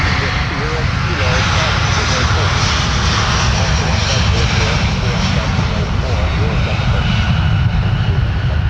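A jet airliner roars steadily during takeoff at Minneapolis–Saint Paul airport, a loud, unbroken engine rumble filling the whole stretch with no letup.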